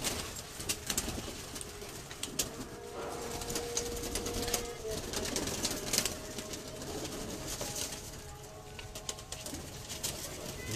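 Teddy pigeons coo on a rooftop loft, soft repeated cooing calls scattered among ambient noise and occasional wing flutters, with someone talking intermittently nearby.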